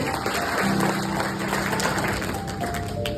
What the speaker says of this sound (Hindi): जोरदार तालियां इन सब लोगों के लिए